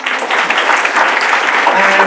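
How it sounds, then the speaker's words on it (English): Public-talk audience at an astronomy institute bursts into brief, loud, dense applause for the person who made the images, a steady crackle of many hands with some voices mixed in. "please applaud for him"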